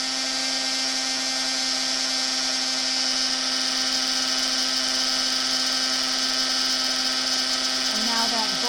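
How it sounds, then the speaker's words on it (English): Handheld embossing heat tool blowing hot air onto gold embossing powder on a holiday card, a steady, loud whirring drone with a constant motor hum that runs unbroken throughout. "And I'm going to bring in my heat tool."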